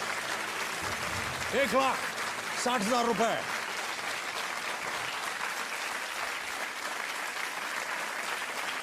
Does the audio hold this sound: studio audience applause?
yes